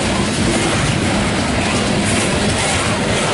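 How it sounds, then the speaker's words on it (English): A loaded CSX N770 coal train passes close by with a loud, unbroken roar of wheels and clattering cars that fills the whole stretch, with no talking. "And it is a big train."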